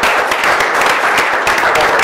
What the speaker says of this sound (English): Perhaps we give them a round of applause